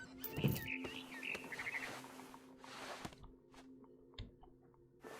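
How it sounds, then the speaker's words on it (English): Barn swallow chirps in What Remains of Edith Finch, a few quick bright tweets early on, then quieter scattered calls over faint ambient hum and soft game sounds. "Then I heard chirping outside my window. It was a barn swallow going back to her nest."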